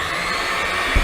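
A blender whirs steadily as it beats chocolate ice cream cream, a loud, continuous motor drone close by with no voices over it.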